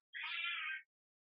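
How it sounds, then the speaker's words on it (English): A cat gives a single clear, close meow lasting under a second, alone in otherwise silent surroundings. "pardon the cat"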